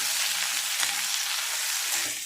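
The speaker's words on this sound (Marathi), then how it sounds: "त्यात आपण घातलेली भेंडी टाकून त्या तेलामध्ये छान आपल्याला परतून घ्यायची आहे" Okra sautéing in hot oil with mustard seeds gives a loud, continuous sizzle and crackle close by, steady for the whole moment with no voices.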